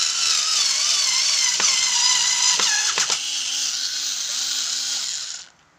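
Total 4-volt cordless screwdriver driving in a screw, a close steady whirring motor that pitches down under load with a few clicks, then cuts off at the end.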